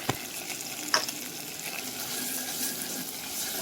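Three or four cloves of minced garlic fry in oil for Egyptian koshari, giving a close, even hiss of sizzling with one sharp utensil tap near the start.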